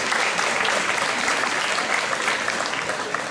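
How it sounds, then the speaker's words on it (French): Audience applause for a folk trio at a concert, a dense steady wash of clapping from a crowd that holds at an even level throughout, with no voices over it. "donc on peut l'applaudir bien fort."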